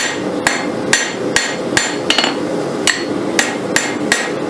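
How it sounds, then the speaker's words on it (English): A hammer strikes a hot steel railroad spike about a dozen times in an uneven rhythm, forging a knife blade. Each blow is sharp and ringing, close up, with no voices. "keep hitting right here at this where we want to form our choil with glancing blows with our hammer"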